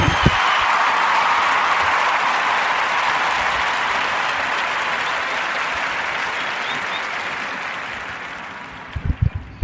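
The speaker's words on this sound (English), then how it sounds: "So clap it up for the chosen one, the King, LB to the J." A podcast audience claps steadily in a long, dense wave of applause that slowly fades, ending with a few scattered individual claps and knocks.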